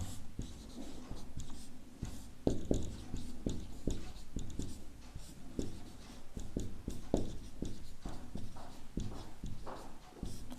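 A pen scratches out a maths solution by hand, with quick strokes and taps in an irregular rhythm, close and moderately quiet against a faint room background.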